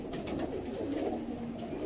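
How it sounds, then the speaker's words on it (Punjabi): A pigeon held in someone's hand gives a soft, continuous low cooing, close and steady throughout. "ਇਹ ਕਬੂਤਰ ਦੇਖੋ ਜੀ ਮੇਰੇ ਹੱਥੇ ਫੜਿਆ"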